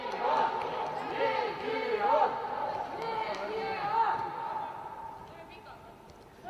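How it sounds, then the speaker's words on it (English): Fans chanting and singing together inside the Skontaholla arena during an under-14 youth football match at the Riga Cup, a steady, echoing crowd chant that swells and dips and fills the whole stretch. "the fans have begun to sing here in the Skontaholla"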